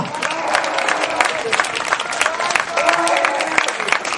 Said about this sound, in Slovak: obrovský potlesk pre famózne duo Farsa